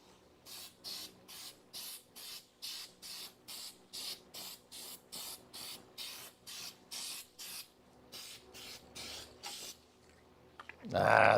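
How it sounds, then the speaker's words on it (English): A spray can hisses out undercoating on a car's leaf spring perch in about twenty short, evenly spaced bursts close by, ending in a louder clatter. "Ah, there's a ripple. I sprayed too much."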